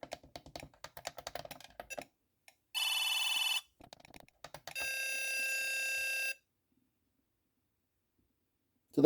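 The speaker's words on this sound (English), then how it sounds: "So that sound was the end of the quarter" A 1978 Mattel Basketball electronic handheld game plays its end-of-quarter signal: light button clicks, then two loud buzzing electronic tones, one short and one longer, followed by silence.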